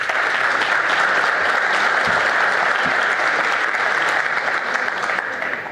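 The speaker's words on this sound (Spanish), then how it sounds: "Damos la bienvenida a Marcela, por favor, un aplauso." Steady, loud applause from a conference audience at a green economy and sustainable development panel, dense even clapping sustained from start to finish and tapering slightly at the end.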